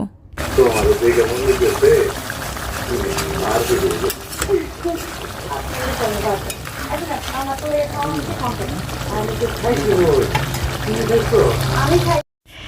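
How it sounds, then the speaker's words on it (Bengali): Water is poured into sizzling fried spices for a meat curry, giving a continuous splashing, bubbling hiss that holds steady for several seconds at close range before cutting off abruptly. "এবারে একটু জল দিয়ে সেদ্ধ করে নিচ্ছি"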